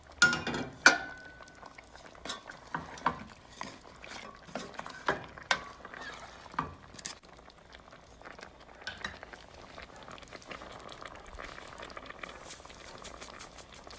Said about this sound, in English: After 15 minutes, stir it well.